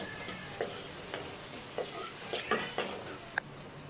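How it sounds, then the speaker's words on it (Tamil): Onions sautéing in a pan for a dried fish curry, with a steady sizzle and occasional sharp scrapes and clinks of a spoon stirring against the metal, close and clear with no talking. "வெங்காயம் நல்லா வதங்கிடுச்சு"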